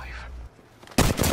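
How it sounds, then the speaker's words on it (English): A sharp gunshot burst in the video game Apex Legends, one loud crack near the end of a brief, otherwise quiet moment. "Oh, I shot the wrong person."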